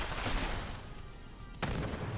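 Grenade blasts in Fallout 76 boom out, with a broad rumbling burst at the start and a second sharp explosion hitting later, loud and close with no talk.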